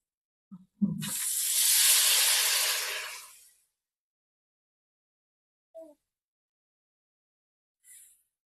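Water poured into a hot pan of fried potatoes and tomatoes sends up a loud, close hissing sizzle lasting a few seconds and fading out, followed by quiet silence and a couple of small clinks.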